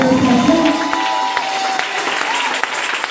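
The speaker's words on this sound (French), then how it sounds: "c'est sous vos acclamations que nous allons recevoir Pasteur Samson" Church congregation applauding and cheering to welcome a pastor, a dense, continuous wash of clapping with crowd voices and sustained tones underneath, loud and close throughout.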